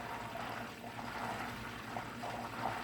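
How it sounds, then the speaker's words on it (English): Melting butter simmering in a pan while making ghee, its water evaporating with a soft, continuous hiss and faint bubbling, quiet and steady with no talk. "that's all the water there on top evaporating right now."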